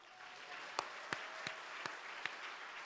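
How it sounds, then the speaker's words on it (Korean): A church congregation at an autumn revival service claps in unison, five sharp, evenly spaced beats ringing over a soft, steady background wash. "우리 주님께 승리의 박수."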